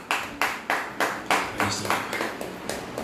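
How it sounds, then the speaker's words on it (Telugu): Worshippers clap their hands in unison during a church praise service, about ten sharp, evenly spaced claps in a brisk steady beat, close and fairly loud, with a voice briefly audible underneath. "clap your hands and praise God"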